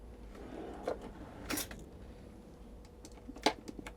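Cutlery drawer in a VW T6.1 campervan sliding open, giving a few short knocks and a rattle of utensils, with one brief scraping slide in between, close and fairly quiet.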